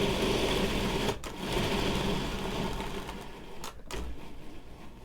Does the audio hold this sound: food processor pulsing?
yes